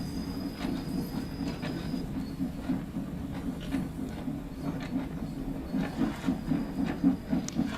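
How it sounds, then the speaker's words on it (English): A Stainer 8F steam locomotive rolls slowly over points in the Train Sim World 2 game, giving a steady rumbling roll with regular clicking wheel beats, a faint high whine in the background and no speech. "But we're coming through some points at the moment,"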